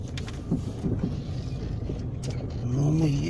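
Four-wheel-drive car bumping over rough ground on the way to a fishing spot in windy weather, a steady rumbling drone with wind buffeting the microphone and an engine note rising near the end.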